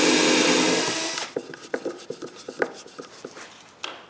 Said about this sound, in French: Je perce donc des trous pour des vis.